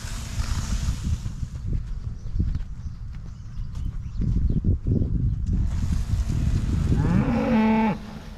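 Cattle on a farm pasture low and moo, several drawn-out calls from cows being moved between pastures, with hoof clatter and shuffling in the open air; one clear, fairly close moo rises near the end.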